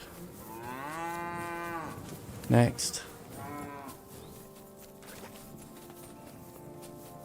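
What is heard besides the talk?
cows mooing, from video game Kingdom Come Deliverance II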